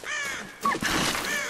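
In a Tomb Raider forest, ravens give a quick run of rasping caws, close and fairly loud, overlapping one another across a short burst.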